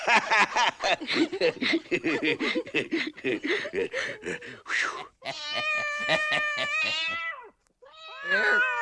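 A cartoon cat meows in several drawn-out, wavering cries after a gruff pirate-style voice talks and chuckles; the meows are loud and close, with a short pause before the last one.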